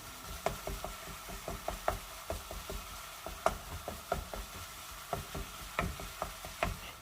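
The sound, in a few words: breaking apart meat and browning it in a pan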